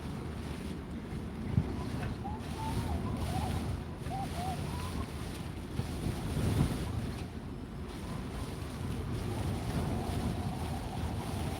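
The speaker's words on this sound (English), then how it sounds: "It's not even that relaxing sound of the sea or anything, is it? It's just pounding constantly" Storm-driven winter sea pounds continuously against the shore, with heavy wind buffeting the microphone in a steady, loud roar throughout; a faint voice appears briefly.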